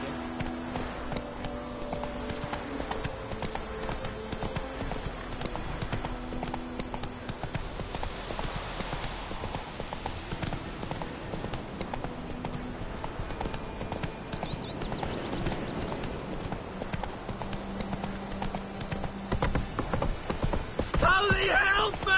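A horse galloping in The Witcher 3: Wild Hunt on PS4, a continuous fast clip-clop of hooves over game music and ambience, with someone talking over it.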